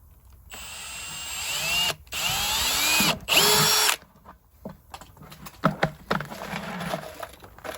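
Power drill runs in three close bursts with rising and falling whine as it bores through a polypropylene gutter, followed by clattering handling noises.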